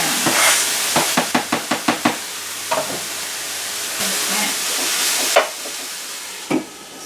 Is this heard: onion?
yes